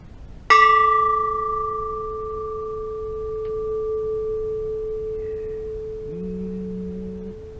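A Japanese antique bell is struck once, ringing out with a clear, pure tone that hangs for several seconds and fades slowly in a quiet room, with a faint lower hum near the end.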